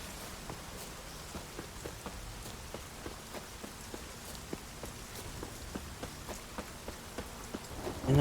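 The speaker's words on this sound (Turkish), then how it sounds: "Ay yağmur da bitmiyor ha." Rain falls steadily in The Witcher 3 Wild Hunt, a dense even hiss with frequent sharp drops and light ticks spread across the clip, continuous and fairly close, with no talk over it.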